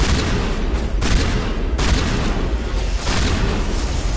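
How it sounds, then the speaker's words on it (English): Robot zombie enemies blowing up in Mass Effect, heard as a loud, continuous, dense rumble of explosive blasts and gunfire with a few brief dips in the din. "They just explode."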